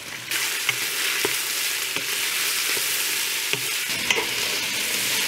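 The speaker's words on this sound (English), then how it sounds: "Once your oil is hot, add in your vegetables. Toss them around to coat them in the oil." Vegetables sizzle steadily in hot olive oil, a dense continuous frying hiss broken by occasional scrapes and clacks as they are tossed around the pan; close and fairly loud, no voices.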